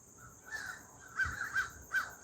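Several crows caw from outdoors in bursts of two or three harsh calls, spaced apart and at moderate distance, with no talking over them.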